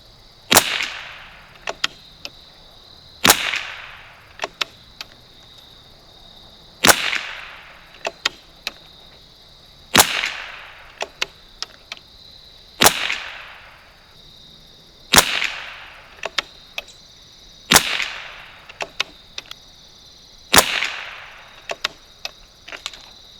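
Shots from a 1972 Anschutz Model 54 match rifle with a 3x9x32 scope, eight sharp cracks at steady intervals of a few seconds, each followed by fainter bolt clicks, close and without talk.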